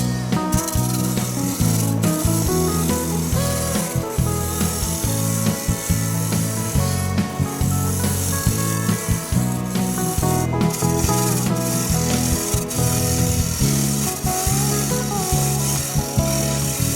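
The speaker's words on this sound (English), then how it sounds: "Because we're cutting side grain, these carbide cutters leave a very smooth surface." Carbide cutters turning the side grain of an exotic wood bowl on a lathe, giving a loud, continuous scraping rasp over a steady spinning hum, with faint rhythmic pulses from the rotating blank.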